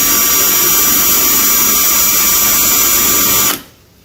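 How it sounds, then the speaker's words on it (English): A power drill with a 5/32 drill bit whines loudly and steadily for a few seconds, then stops abruptly. "Right here I got a 5/32 drill bit."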